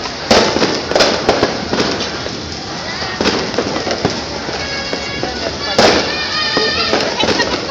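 Fireworks crackle and pop continuously, with sharp louder bursts standing out among dense crackling, while people talk in the background.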